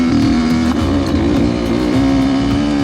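A dirt bike ridden on a rough, long-unused motocross track, its engine loud and close with a strong steady drone and small revving fluctuations, heard alone.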